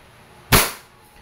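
A single sharp, loud report from a 2011 Hi-Capa T-Rex airgun fired once in semi-automatic mode, a sudden crack that decays quickly into a quiet room.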